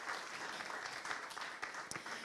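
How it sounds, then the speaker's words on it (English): Audience applause at a student hackathon award ceremony, a soft, continuous patter of many hands clapping at a distance, with a few sharper claps standing out. "give a round of applause to him."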